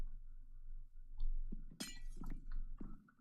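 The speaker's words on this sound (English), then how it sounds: "Oh, I gotta remove all that green glass now." Green glass blocks break in a video game with a sharp shattering crash and a few lighter clinks and thunks around it, close and fairly loud over a low steady background hum, no talking.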